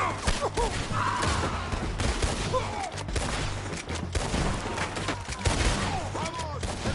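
Dense gunfire in an artillery battle scene, a rapid, irregular barrage of shots and thumps that is loud and continuous, with shouting voices mixed into the din.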